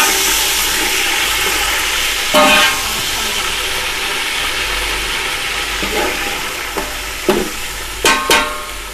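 Onions simmering in a pan after a splash of water is added while making chicken pulao, a steady hiss and sizzle with occasional scraping and clanks of a spoon against the pan.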